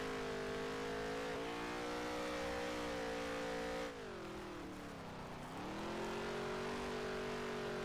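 Race car engine on a dirt track in NASCAR Heat 3, a continuous loud droning roar whose pitch holds steady and then dips and climbs again as the car works through turns.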